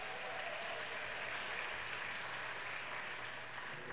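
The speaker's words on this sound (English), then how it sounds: "Let's give the wonderful presentation a round of applause." Audience applause at the 2017 Ms. Senior DC Pageant, a dense, even wash of clapping from a large crowd held steady throughout.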